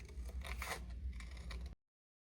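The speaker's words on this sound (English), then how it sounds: "I'm going to trim mine on the inside here and on the outside there" Scissors cut through card stock for a handmade shaker card in a run of close, crisp snips and scrapes lasting under two seconds. Silence follows.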